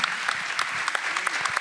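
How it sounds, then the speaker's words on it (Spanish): Theatre audience applauding at a live event, a dense, steady wash of many hands clapping at moderate loudness for the whole moment. "Gran aplauso."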